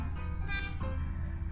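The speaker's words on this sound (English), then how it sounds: "I love the sound of these train horns." A short train horn blast sounds in the train puzzle arcade game Conduct Deluxe, rising over steady, tonal game sound and then fading back into it.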